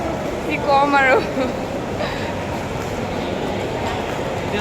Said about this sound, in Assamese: এয়া দিল্লী ষ্টেচন।